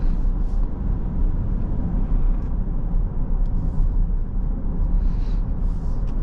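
A 2024 Acura ZDX A-Spec AWD, a heavy electric SUV, accelerates in normal mode with a steady, even rumble of road and wind noise from inside the cabin, holding level throughout without any engine note.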